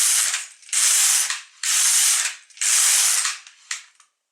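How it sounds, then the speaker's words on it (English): A Silver Reed LK150 knitting machine carriage knits sweater sleeve rows in four loud rasping, ratcheting passes with short pauses between them, ending in a brief shorter burst. "I'll just knit to 16 before we do the next increase."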